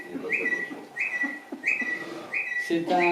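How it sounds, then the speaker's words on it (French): A common blackbird's clear, repeated whistled phrase rises and falls about every second, five short melodic bursts over a soft, busy background. "C'est un merle."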